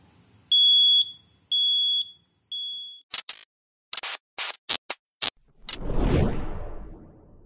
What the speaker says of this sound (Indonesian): 34 derajat Celcius, maka buzzernya akan menyala.